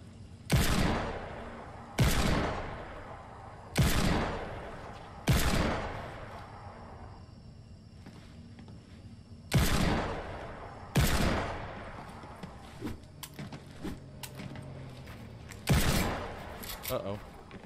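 Loud, sharp gunshots from the video game Fortnite, about eight in all. They come singly or in quick pairs and ring out with a long echoing tail, with quieter game sounds in the gaps.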